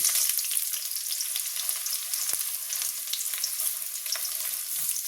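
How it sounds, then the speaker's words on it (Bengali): Chopped onion fries with garlic in hot oil, a dense continuous sizzle, close and steady with a faint knock or two, no voices. "তো আমার রসুনটা লাল লাল ভাজা ভাজা হয়ে গেছে, তার সাথে দিচ্ছি পেঁয়াজ কুচি"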